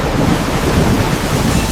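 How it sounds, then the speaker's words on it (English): Heavy rain with rumbling thunder, a dense, loud, continuous roar with low rolling energy throughout and no voices. "The rain is getting heavier."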